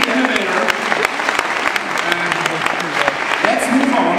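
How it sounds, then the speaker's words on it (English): An audience applauds Hannes during a futurist presentation, continuous clapping across the room from start to finish, with voices and a few louder claps near the mic. "One applause for Hannes."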